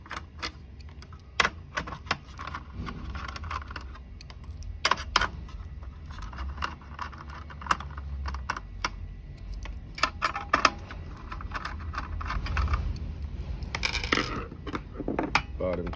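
A 1/4 inch driver backs out standoffs from a circuit board in a battery system unit, giving scattered faint metallic clicks, ratchet ticks and small taps with quiet handling noise in between.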